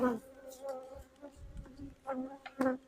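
Bees buzzing around a beehive with a screen, close buzzing tones rising and fading as insects fly past, with occasional faint rustling handling noise.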